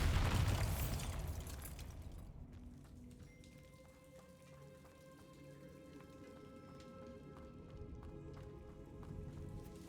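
A Bombarda spell goes off in Hogwarts Legacy with a loud booming blast up front, followed by a rumbling, crackling tail and faint debris patter fading into a quieter game ambience.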